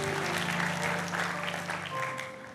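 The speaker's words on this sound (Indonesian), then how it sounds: "Tepuk tangan dong buat Tuhan kita." A church congregation claps together during a worship service, a dense steady patter of many hands filling the space, with sustained tones from instruments or voices running underneath.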